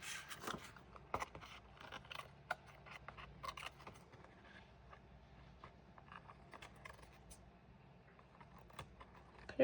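Scissors trimming paper for a craft file folder and tag project, faint small snips and scrapes in an irregular series, close by and quiet.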